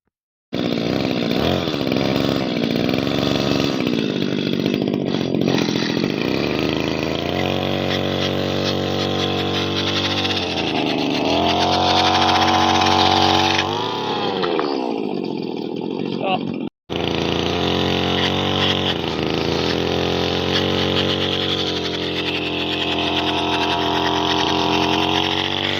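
A custom two-stroke engine in a radio-controlled car cruises around at moderate speed, its buzzing, chainsaw-like whine rising and falling with throttle changes and briefly cutting out near the end; a person talks over parts of it.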